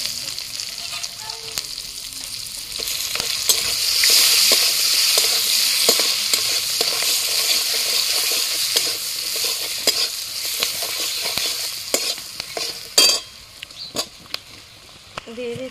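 Onion fries in a pan with cardamom, turmeric and cumin powder while being stirred: loud continuous sizzling with frequent sharp scrapes and clicks of the spatula.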